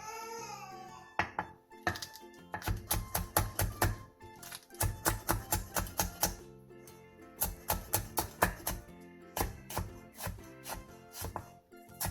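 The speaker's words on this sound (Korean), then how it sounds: "대파 2분의 1개와 청양고추 2개를 길게 반으로 가른 뒤 쫑쫑 썰어주세요." Half a green onion and two cheongyang chili peppers, halved lengthwise, are finely sliced with a knife on a cutting board. Quick bursts of crisp rhythmic knocks come close and clear, with short pauses between runs.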